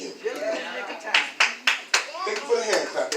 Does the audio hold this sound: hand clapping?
yes